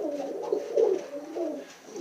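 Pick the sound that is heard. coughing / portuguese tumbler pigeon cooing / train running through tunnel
portuguese tumbler pigeon cooing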